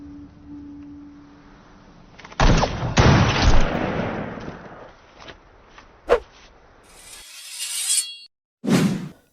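A couple of sharp gunshot bursts crack out amid whooshing in a World War II film, followed by a lone shot and a final thud, cinematic and loud.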